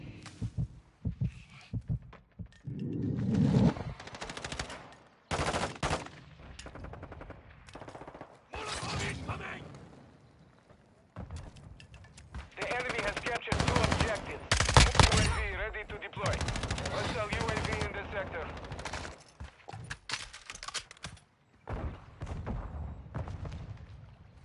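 Rapid bursts of gunfire from Call of Duty multiplayer, bursty and loud and broken by short pauses, with heavy low thumps and clattering shots crowding together, up close.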